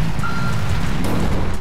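Reversing beeps from a tow truck in the game GTA RP sound against a dense, steady wash of engine and street noise, with a short electronic tone standing out briefly near the start.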